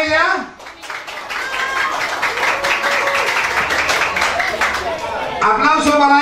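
Applause and clapping from a small crowd at a child's birthday party, honoring a woman; steady clapping runs through most of the stretch with children and adults talking and shouting over it.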